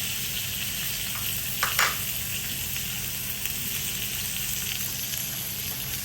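Caramelised, spice-flavoured jalfrezi onions sizzling on a hot plate in a restaurant-style kitchen, a steady close hiss with a brief louder burst of sizzle partway through; no talking.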